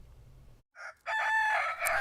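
A rooster crows loudly and close on a farm where chickens are kept, following a brief clucking note, with a short quiet gap before the long crow.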